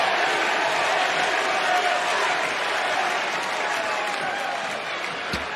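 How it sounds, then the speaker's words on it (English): A capacity arena crowd in Albany roars with sustained cheering, applause and chanting at a WWE Raw wrestling match, a dense, loud wash of noise that continues throughout, with a sharp thud near the end. "And a Sami chants from this capacity crowd here tonight in Albany."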